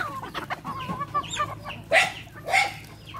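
Old Barred Rock hens clucking on a farm, with soft, scattered clucks at first and two louder, sharper squawks near the end.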